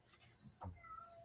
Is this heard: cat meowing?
yes